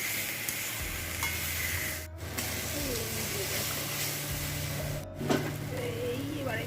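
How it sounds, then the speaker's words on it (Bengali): Onions frying in oil in a home kitchen pan after bay leaf and whole garam masala spices were added, a steady sizzle and hiss with occasional stirring scrapes, joined by low background hum throughout. "তেজপাতা গোটা গরম মশলা ফোড়ন দিয়ে দিয়েছি এবার পেঁয়াজটাকে ভাজবো দেখো তেল ছেড়ে দিয়েছে"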